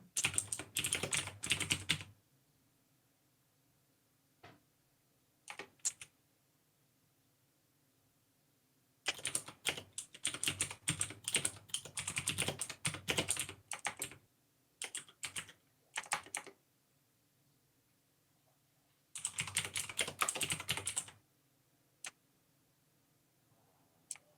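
Typing on a computer keyboard during a tabletop role-playing session, several bursts of rapid clicking keystrokes separated by quiet pauses, close and crisp with no talking.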